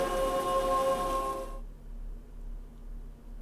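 Steady broadband rain hiss in the video game Casual Crimes, loud with tonal game sounds over it for about a second and a half, then cutting off sharply to a quiet low hum.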